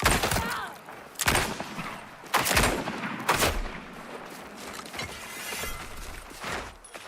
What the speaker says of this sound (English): You're getting shot from behind